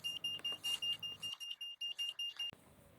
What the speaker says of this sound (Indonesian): Apabila sensor PIR berfungsi, maka buzzer dan LED akan menyala.